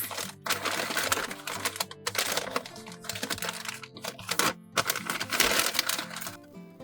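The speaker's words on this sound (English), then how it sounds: "Wrapping with newspaper helps limit light and air from coming into direct contact with the banana peel" Sheets of newspaper rustle and crinkle as a bunch of bananas is wrapped, with close, busy crackling and irregular crisp bursts running throughout with no pauses.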